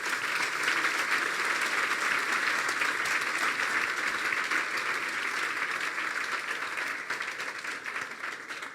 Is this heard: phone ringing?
no